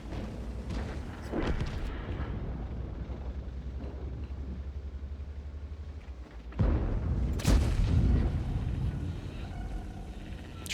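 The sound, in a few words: artillery fire from the video game World of Tanks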